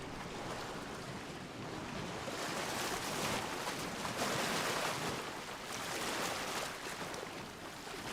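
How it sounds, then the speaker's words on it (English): Ocean waves crash against rocks at night in a continuous, rolling roar with slow swells of loudness, heard alone with no voices. "listen to the sound of the waves crashing against the rock"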